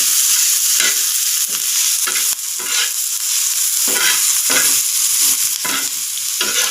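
Onions and green chillies sizzle steadily in a frying pan while a spoon stirs them in regular, scraping strokes, loud and close with no voices.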